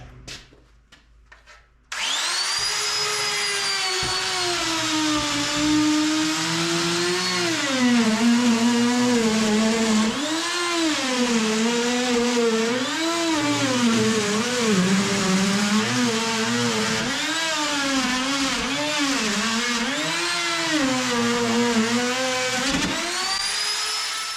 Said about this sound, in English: come back later with your router and your panel bit and basically just hog out this opening